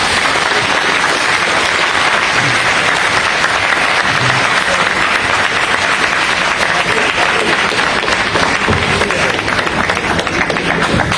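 Loud, sustained applause from an audience at a political party rally in Côte d'Ivoire, a dense wash of many hands clapping continuously at close range with scattered crowd noise.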